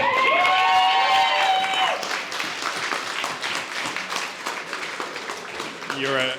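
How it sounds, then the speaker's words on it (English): Wedding guests applauding at a reception, scattered whoops and a voice at first, then a steady burst of many hands clapping that tapers off, with talking returning at the very end. "Round of applause for Ben."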